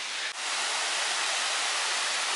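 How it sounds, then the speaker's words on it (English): A waterfall on a hiking trail at Devil's Marbleyard near Natural Bridge, Virginia, gives off a constant, soft rushing hiss of falling water, heard from a distance and steady throughout with one tiny dip near the start. "What a nice waterfall."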